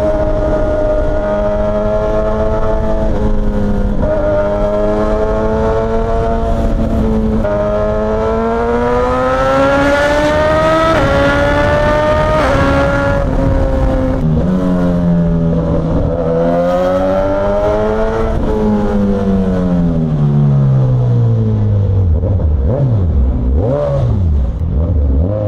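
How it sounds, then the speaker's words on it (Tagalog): Ducati motorcycle riding alongside in heavy city traffic, its engine note steady and then swelling through revs with rising and falling pitch, loud and close, heard alone for a long stretch. "May nakasabay tayo. Ducati yata to."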